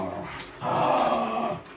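Dogs in a busy household whimpering and growling, a close whine rising into a sustained rough growl before tapering off.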